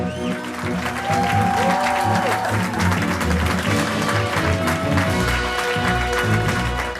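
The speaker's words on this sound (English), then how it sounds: "let's give a big applause, cause we got a big TV show going on tonight" A TV show studio audience claps and applauds continuously, loud and sustained throughout, with music playing underneath.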